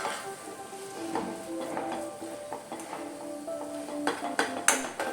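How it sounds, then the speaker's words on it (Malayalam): Tomatoes and turmeric sizzle and fry in a pan for a bhindi masala curry, with steady stirring and occasional clinks of a utensil against the pan. The sound is close and moderate, with a few sharper scrapes near the end and no talking. "നമ്മുടെ തക്കാളിയൊക്കെ നല്ലതുപോലെ ഒന്ന് വെന്ത് വരുന്നത് വരെ നമുക്ക് ഇളക്കി കൊടുക്കാം"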